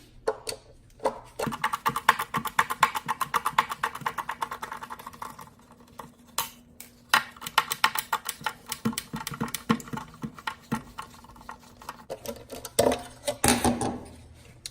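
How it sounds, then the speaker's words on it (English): A fast, rapid ticking of a ratcheting driver loosens two screws with a T20 Torx bit during a Fiat 500 Abarth air intake install, in close, irregular bursts with brief pauses between them. "Now take a T20 Torx bit to remove these two screws"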